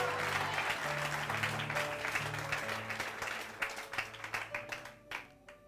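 Church congregation applauding during a sermon, a sustained wash of clapping with low organ or keyboard notes beneath, thinning into a few scattered louder claps near the end.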